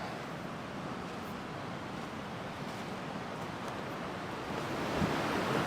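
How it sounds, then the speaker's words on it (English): A waterfall in northern Ontario in late April, a steady broadband rush of falling water, fairly close and constant, swelling a little near the end, with no voices. "And here is the waterfalls."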